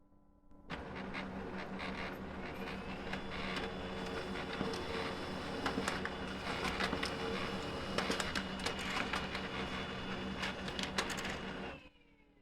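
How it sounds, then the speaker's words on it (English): Brother HL2300 laser printer printing two A4 status report pages, a steady whirring mechanical run with rapid clicking and paper feed rattles that starts abruptly and stops near the end, close and alone. "it prints out 2 A4 pieces of paper"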